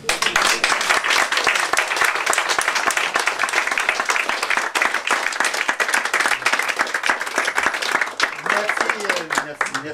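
An audience applauds steadily, dense clapping filling the room for about ten seconds, with a voice briefly audible near the end.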